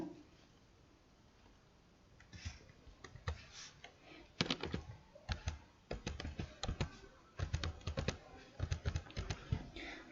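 Keys clatter on a computer keyboard while a word is entered into Tally Prime accounting software, starting with a few scattered taps and building into quick irregular bursts of close, crisp clicks with brief pauses between them.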